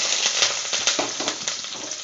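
Green chillies, dried red chillies, garlic, a large onion and curry leaves fry in a pan, crackling close and steady with scraping stirs and spoon taps, with no voices.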